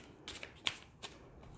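A small tarot deck of tiny cards is shuffled roughly, giving three or four quick riffling bursts with a sharp snap in the middle, close and clear with no talking.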